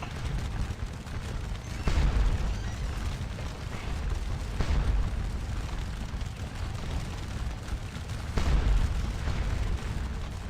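Artillery shells exploding around a burning church in Scourge of War Waterloo at Ligny, distant French guns keeping up a constant rumbling din with a few heavier booms standing out.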